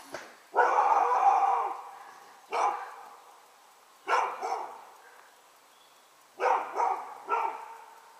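A dog barks six times in loose, irregular bursts, the first drawn out, the last three close together, with silence between.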